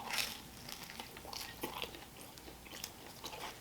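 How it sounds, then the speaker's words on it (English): Someone chewing a hard focaccia pizza crust from California Pizza Kitchen, with faint, close crunches and bites repeating irregularly and no talking. "focaccia's a little hard. It's kind of hard to chew it."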